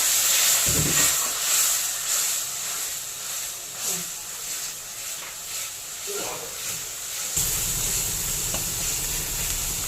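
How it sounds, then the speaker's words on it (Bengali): A spice masala sautés in oil with a splash of water for dhaba-style okra and potato. A constant loud sizzling hiss runs throughout, broken by occasional stirring scrapes and a brighter burst of sizzle near the end. "অল্প একটু জল দিয়ে ভালো করে মশলাটা কষাতে হবে"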